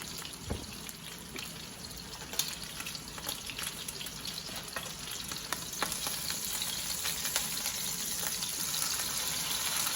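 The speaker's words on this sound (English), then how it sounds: "So it is sizzling." A steady, close sizzle of pot roast beef searing in a hot pan, with crackling pops and spatters throughout and a faint hiss underneath.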